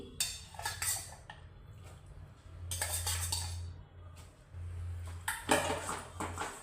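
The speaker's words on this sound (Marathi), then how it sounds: "आता ही मटकी टाकून चांगलं ढवळून घेते हे मिश्रण." A spoon stirs a sprouted moth bean (matki) bhel mixture with onion and salt in a bowl, giving intermittent clinks and scrapes in uneven bursts, close and quiet over a low background hum.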